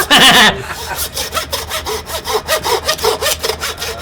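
A small hand saw cuts through beef rib bone while a center beef rib primal is butchered, giving a steady, loud back-and-forth rasp of repeated strokes that follows a brief higher scrape at the start.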